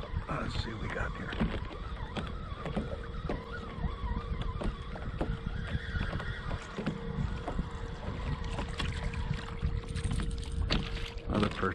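Small trolling motor driving a kayak on Lake Galena, a steady droning hum under wind and water noise, close and continuous, with a few knocks and handling sounds during fishing.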